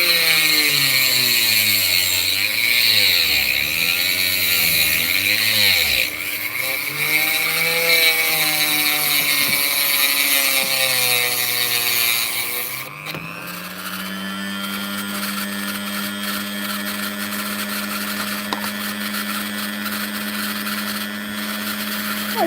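A saw cuts straight through opal-bearing sandstone, a steady loud grinding whine whose pitch wavers as the blade bites, then settles into an even, sustained drone after a brief break midway.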